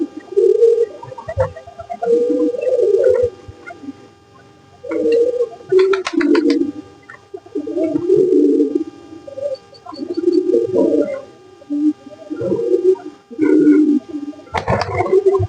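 Pet pigeons coo close by in repeated low, throaty bursts, each lasting a second or two and separated by short pauses, with a few soft clicks and rustles between them.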